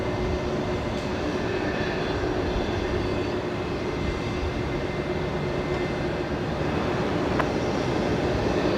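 Velocity 992 taking off at Brisbane Airport, a steady, broad jet roar holding at an even level throughout, with no speech.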